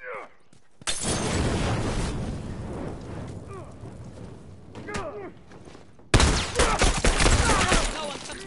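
Heavy gunfire and explosive blasts from a firefight in The Last of Us multiplayer, loud and sustained with two dense bursts, mixed with voices talking.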